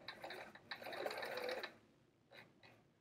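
A sewing machine stitches a curve in fabric for a Modkid Travel Art Folio, running in a steady burst of about a second, pausing, then giving two short stop-start bursts as the fabric is turned one stitch at a time.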